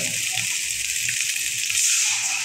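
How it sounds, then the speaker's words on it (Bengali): Steady broadband rush of water being poured into a cooking pot over ginger and garlic for a taki fish and potato dish, continuous and close, swelling slightly louder near the end. "পানি দিলাম।"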